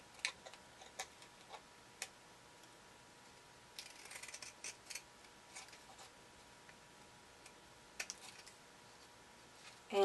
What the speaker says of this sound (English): I'm going to take my pinking scissors